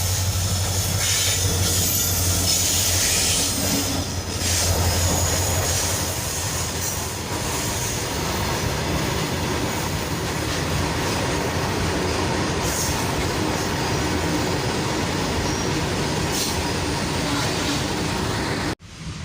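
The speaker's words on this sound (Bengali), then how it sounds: "পাশ দিয়ে ট্রেন আসছে," A freight train rolls past close by, its wheels and wagons producing a loud, steady rumble with clattering and faint squeals that hold for nearly twenty seconds before cutting off abruptly.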